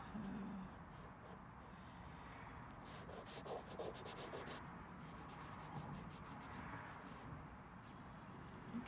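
Conte crayon rubbing and scratching across paper while sketching tulips, a steady close-up grain of strokes with a denser run of quick, rhythmic strokes through the middle; soft talk may sit underneath.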